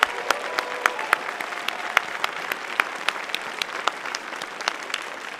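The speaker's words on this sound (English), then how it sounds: "Let's give a round of applause for all the communities that helped us put those together." Applause from a crowd at a convention closing ceremony, a continuous patter of many hands with sharper individual claps popping out, moderately distant and steady throughout, no speech over it.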